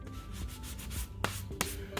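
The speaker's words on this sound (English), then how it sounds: "So let me get to sanding and I'll show you." Sanding the shiny surface of an inflatable boat to prepare it for reinforcing patches: steady close abrasive rubbing strokes with a couple of sharper scuffs near the end, no voices.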